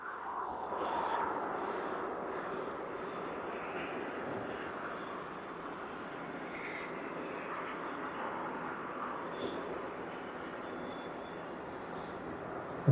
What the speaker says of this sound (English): I'm pretty sure what I can hear is a chopper